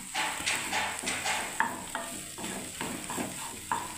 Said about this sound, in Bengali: নেড়ে দিচ্ছি বন্ধুরা, দেখুন